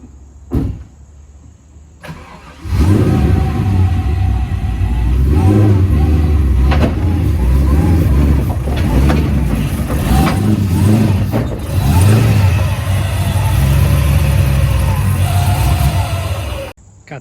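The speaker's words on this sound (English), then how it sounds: "So gonna hop on, put it on the trailer." A drift car's engine idles and revs as it is driven up onto a trailer, loud and close with rough throttle blips after a quiet start, and a voice briefly heard.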